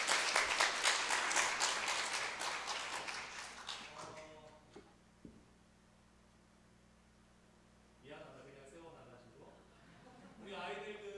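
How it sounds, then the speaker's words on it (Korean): A church congregation claps for the children during a Korean Sunday worship service, a brief burst of clapping that fades within a few seconds, followed by quiet room tone and a voice speaking. "우리 박수 한번 합시다"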